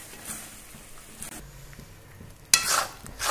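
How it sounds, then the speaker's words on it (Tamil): Masala chicken liver gravy bubbling in a pan gives a faint, soft sizzle with light pops, then a louder burst of spitting near the end, with no talking. "இது நல்லா கொதிக்கட்டும்"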